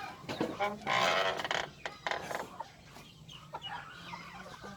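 Shamo Aseel chickens, some of them brooding hens, cluck and squawk nearby in a backyard coop, a busy burst early on that gives way to softer, scattered calls.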